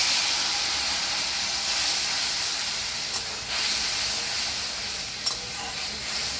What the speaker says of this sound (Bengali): এই তেলের মধ্যে আমি পোস্ত বাটা পোস্ত আর লঙ্কাটা বেটে নিয়েছিলাম এর মধ্যে দিয়ে দেবো